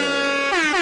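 A loud, brief air horn sound effect blares as one sustained tonal blast that shifts pitch midway, heard alone with no speech.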